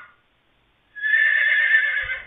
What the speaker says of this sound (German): Aber warum ist das die Pferdegeschrei da hinten?